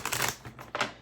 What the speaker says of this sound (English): Let me shuffle the cards here a few times before we get into our reading